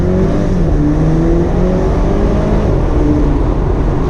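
A 2019 BMW Z4 with a manual gearbox drives along with a steady, loud engine drone and a low rumbling burble, continuous and close without any speech.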